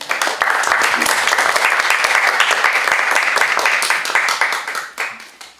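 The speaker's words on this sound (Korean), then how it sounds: "여러분 같이 나오실 때 박수로 환영해 주시기 바랍니다" An audience at a lecture gathering claps to welcome a pastor to the front. The applause is loud and crisp, with individual claps audible, holds steady, then thins and fades toward the end.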